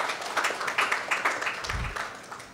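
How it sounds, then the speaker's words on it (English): Applause from a conference audience for a panel of experts at a discussion on electoral systems, a few seconds of steady, moderately distant clapping from a seated crowd. "another round of applause, please, for our panel of experts"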